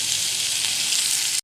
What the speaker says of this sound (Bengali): এবার ক্যাপসিকামগুলো দিয়ে ভালো করে ভাজা করে নেব।